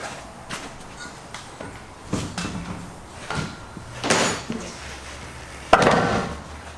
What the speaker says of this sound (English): we can now go ahead and lower our door.